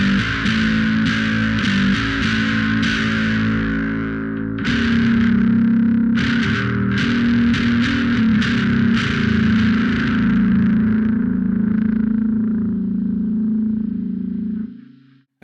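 A bass guitar played through a high-gain pedal plugin growls with thick, fuzzy distortion, several sharp plucked attacks then sustained gritty notes fading out at the end, loud and alone.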